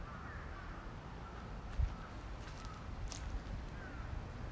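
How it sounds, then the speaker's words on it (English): Crows cawing in Tokyo: a few faint, distant caws over a low, steady urban background hum. "Crows are having lunch."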